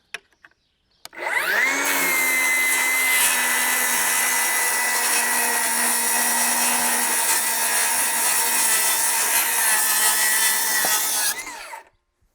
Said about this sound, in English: First, we'll run through with the Milwaukee, making sure I set my depth at a nice depth.